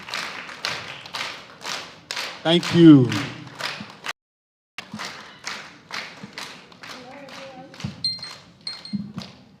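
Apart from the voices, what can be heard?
audience clapping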